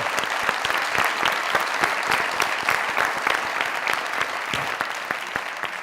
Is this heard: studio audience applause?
yes